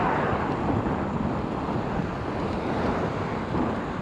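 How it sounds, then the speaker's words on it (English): Strong wind buffeting a microphone outdoors on a ride from Huntington toward the Kentucky state line, a continuous loud low rumble with no pauses. "All I know is wind's working pretty hard against me today."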